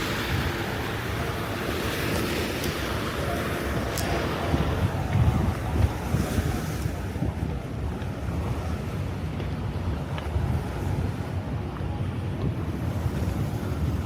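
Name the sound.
waves on water with wind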